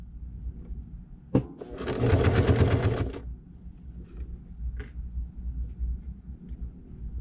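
Sewing machine stitching through the thick finished strap of a small shoulder bag, a single quick burst of rapid mechanical whirring lasting about a second, with scattered handling knocks before and after.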